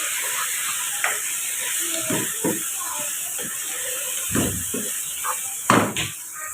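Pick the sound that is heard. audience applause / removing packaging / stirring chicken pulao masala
stirring chicken pulao masala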